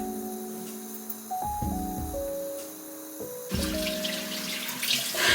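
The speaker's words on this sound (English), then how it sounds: "I just wash this off with lukewarm water" Lukewarm water runs from a bathroom tap into a sink while a face is being washed, a steady trickle with a few shifts in flow and splashes near the end.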